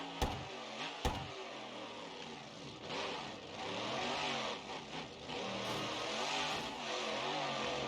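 Monster truck engine in the video game BeamNG.Drive with a revamped CRD 3.0 engine sound, revving up and down in wavering pitch sweeps after two sharp pops, loud and close with no talking.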